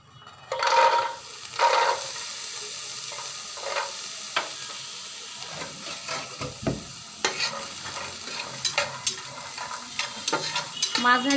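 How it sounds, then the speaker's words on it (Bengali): Garlic cloves fry in a pan on the stove, a soft steady sizzle broken by sharp scraping stirs and clinks of the spatula, close and fairly quiet with no talk. "রসুনগুলোকে লাল লাল করে ভেজে নেব"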